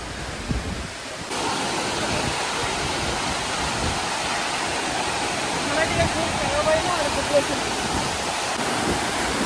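Hebbe Falls, a two-tiered waterfall in Chikmagalur, roars close by as a constant broad rush of falling water, loud and unbroken.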